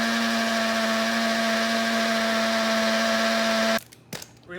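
A large KitchenAid blender whirs loudly and steadily with a high motor whine, then abruptly shuts off, leaving a few faint clunks.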